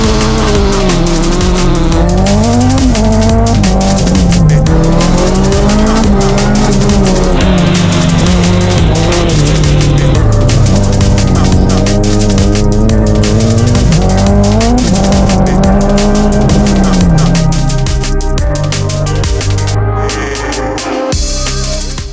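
A Ford Fiesta race car on a track, its engine loud and close, revving up and down through repeated acceleration with tire squeal and skidding throughout.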